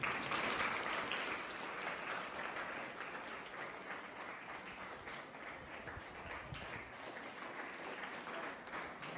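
School children at a police awareness session on online fraud burst into sustained applause, a dense roomful of clapping that stays strong throughout and eases slightly toward the end, with a faint voice underneath.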